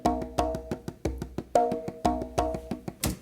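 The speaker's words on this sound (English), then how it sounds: "Why not add congas?" Congas added to a song play a lively syncopated pattern of crisp, resonant hand-drum strikes, some ringing with clear pitched tones, loud and up front with no voices.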